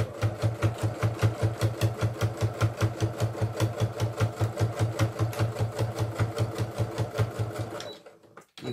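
A sewing machine stitches a zipper onto a belt bag, its needle hammering in a fast, steady rhythm for about eight seconds before stopping abruptly.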